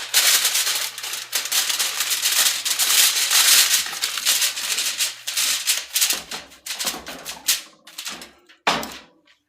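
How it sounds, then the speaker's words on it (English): Aluminum foil crinkles and rustles loudly as it is pressed tightly over a pan of smothered ribeyes, bursts of crumpling that thin out into a few sharp crackles. "Sorry for the noise of the foil."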